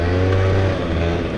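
Scooter engine during a ride through a village, a steady close drone with a low hum and wind noise throughout the short stretch.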